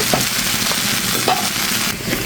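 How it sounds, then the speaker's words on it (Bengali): Fried okra and potatoes are stirred in a pan as a dense, loud sizzle runs throughout, with light scraping and clinking of the spoon scattered over it. "এখন এর মধ্যে আমি আলুটা দিয়ে দিচ্ছি। এরপরে নেড়ে ছেড়ে নামিয়ে নেব।"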